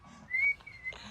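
A person whistles a short, thin tune of two drawn-out tones with a brief gap between them. The sound is fairly faint and heard alone, without talk.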